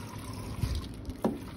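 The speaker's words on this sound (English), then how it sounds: "I'm gonna do another bucket of water." Water poured from a bucket runs over a model canyon, a faint brief trickle and splash.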